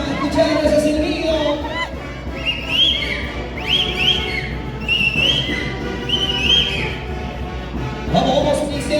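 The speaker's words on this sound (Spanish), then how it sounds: "Percy, vamos a escuchar ese silbido." At a crowded outdoor festival event, a person gives loud, sharp rising whistles in several repeated bursts over a constant murmur of crowd noise and voices.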